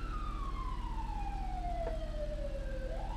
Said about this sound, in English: I hear sirens like a motherfucker up there